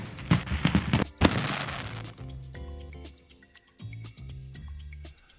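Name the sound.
iMessage fireworks screen effect sound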